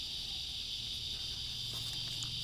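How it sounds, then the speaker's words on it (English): Evening insects in a Central Florida garden, cicadas by description, keep up a steady, unbroken high-pitched drone for the whole stretch at moderate loudness, with no voices over it. "the cicadas come out at night"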